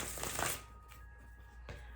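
A tarot card deck is shuffled close by, a dense papery riffle for about half a second before the sound thins to a quieter room with a faint tone.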